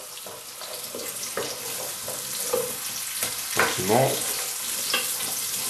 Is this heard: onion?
yes